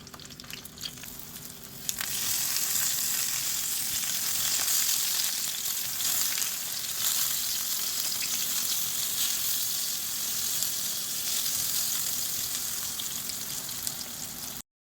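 Eggplant slices fry in a small amount of oil, giving a steady, close crackling sizzle that jumps louder after a couple of seconds and holds evenly to the end.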